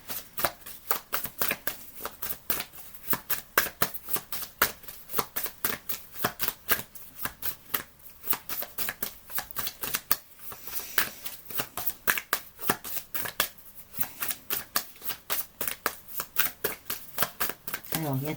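Oracle cards shuffled steadily and close, a long run of rapid rhythmic riffling flicks with brief pauses, continuing without interruption.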